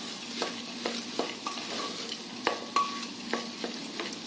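A spatula stirs a bajra millet khichdi mixture in a pan with quiet, regular scraping strokes about every half second over a faint sizzle, heard close up with no voices.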